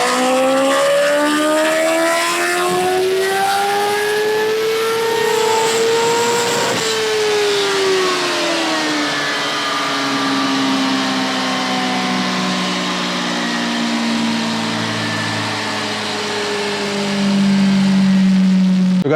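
A Kawasaki Ninja H2 motorcycle revs hard on a dyno in an enclosed dyno room, its engine pitch climbing, dropping through gear changes and rising again in a loud, sustained, close-up howl with no talking.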